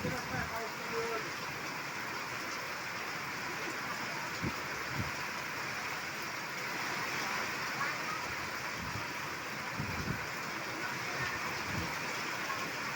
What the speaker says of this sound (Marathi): बऱ्यापैकी हा मृग नक्षत्राचा पाऊस पडत आहे